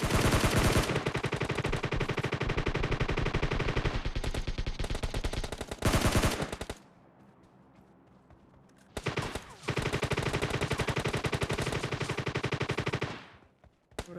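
Loud automatic gunfire in long sustained bursts in PUBG Mobile Lite, broken by a short lull before another extended burst, with no voices.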